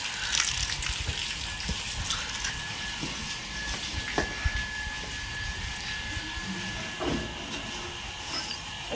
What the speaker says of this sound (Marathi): तर इकडे पाणी आलंय